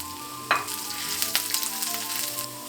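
Julienned ginger dropping into hot ghee with cumin seeds and red chilies, a sudden crackling burst followed by a steady close sizzle with scattered pops, no voices.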